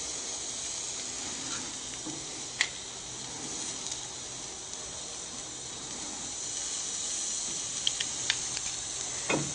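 Steak searing in a hot pan, a constant soft sizzle and hiss with a few sharp pops and clicks scattered through, no speech.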